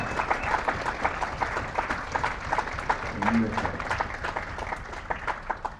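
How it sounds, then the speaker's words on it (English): An audience at an auctioneering college graduation applauds the fathers on Father's Day, a dense, steady round of clapping from a sizable crowd with faint voices beneath it. "How about a round of applause for all of our fathers?"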